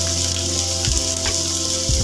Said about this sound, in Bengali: এই সবজিগুলো ভাজার সময় এখানে একটু গোলমরিচ দিয়ে দিচ্ছি